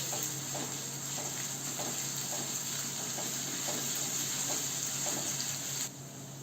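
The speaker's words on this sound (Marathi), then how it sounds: "हे सगळं परतून घेऊया." Chopped ginger, garlic and green chili sauté in an oil pan for a farsan vegetable dish, a steady close sizzle with faint rhythmic stirring scrapes, dropping off near the end.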